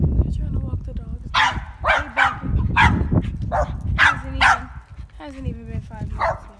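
Several dogs, including a large one, bark and yip repeatedly in short bursts while being walked outdoors, fairly close, with people talking over and between the barks.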